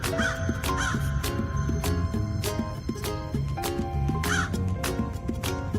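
A crow caws repeatedly in harsh, rhythmic calls, loud and close, with other bird sounds in the background.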